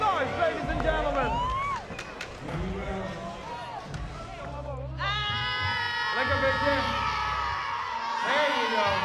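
A crowd at a Red Bull Drop In skate tour stop cheers, whoops and bellows loudly and continuously, with an announcer's amplified voice rising over the rowdy noise.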